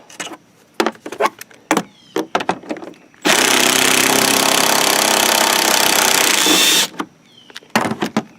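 Power tool backing bolts out of a car headlight assembly during an Autosaver88 headlight install, one loud continuous buzzing whir of about three and a half seconds, framed by close clicks and knocks of handling, with no speech.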